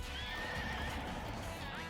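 Horses neigh and whinny over a steady patter of galloping hooves from the horse-racing video game Pocket Card Jockey: Ride On, a busy, continuous mix with the high whinnies rising and falling across it.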